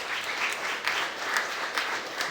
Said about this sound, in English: Please, everyone give a massive round of applause to Mr.